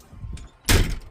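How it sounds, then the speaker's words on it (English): A faulty door in a house under renovation moves with a sudden broadband thump and rattle after quiet shuffling, close and brief. "Door doesn't work."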